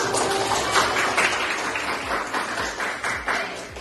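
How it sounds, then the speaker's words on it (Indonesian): Applause in a classroom, many hands clapping together in a fairly loud, steady patter that starts at full strength and slowly tapers off. "berikan tepuk tangan"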